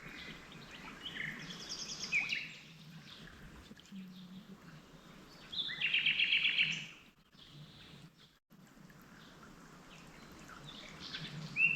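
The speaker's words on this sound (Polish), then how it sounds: "Jedyne co słychać to ptaszki" Small birds chirp in quiet open countryside in Cappadocia, Turkey: a brief call, then a rapid trilling burst, with soft distant calls and faint ambience between.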